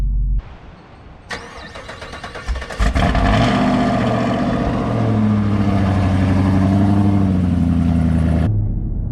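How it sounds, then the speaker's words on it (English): Inside the cabin of a 500 whp Camaro SS, the engine cranks and fires, then revs hard through a sustained acceleration pull. The steady droning roar holds loud and close before cutting off abruptly. "you guys can kind of hear the cabin noise inside of the car"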